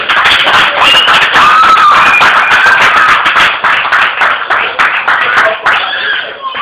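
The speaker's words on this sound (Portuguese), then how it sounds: "Palmas ao Senhor" Churchgoers at an independent Baptist church clap loudly and close, a brisk ragged burst of hands with cheers, laughter and overlapping voices mixed in, thinning toward the end.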